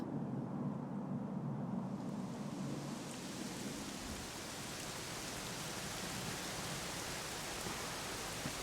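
Steady, dense video game rainfall hisses continuously, with a low rumble underneath, like a heavy downpour, in Dragon Quest XI S.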